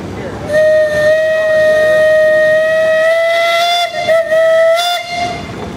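Steam whistle on a 1660 double rear mount engine gives one long, loud steady blast of about five seconds with a brief dip near the end, over faint background hiss.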